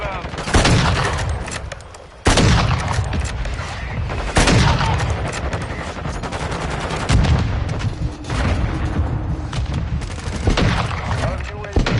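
Heavy gunfire and explosions from a mortar strike in the video game Modern Warfare 2, with loud, continuous bursts of automatic fire and repeated booms across the whole stretch, and voices calling out in the mix.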